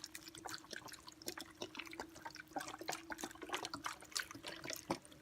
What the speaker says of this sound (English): I'm going to put my beef broth